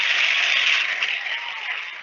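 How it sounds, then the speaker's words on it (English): An online audience at a Microsoft Canada developer community event applauds its presenters, a thin, steady patter of clapping that fades slightly toward the end. "So let's give them a round of applause."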